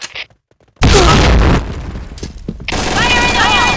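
Loud blasts and bursts of gunfire from a video game battle, ARK MF7 against Ex TRV 588 on Sandstorm, with a sharp boom followed by sustained rattling fire and a shouted voice amid the chaos.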